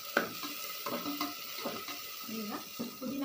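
Onions and fresh mint frying in oil for mutton biryani, with a soft continuous sizzle and intermittent stirring scrapes in the pan, close and moderate in level.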